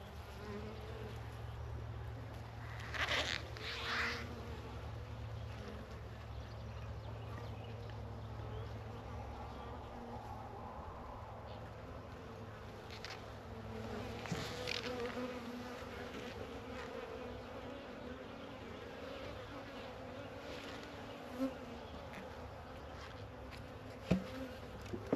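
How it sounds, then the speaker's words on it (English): Bees buzz around a hive in a steady, continuous drone close to the listener, with occasional louder passes and faint background noise. "Bees are falling off of this one."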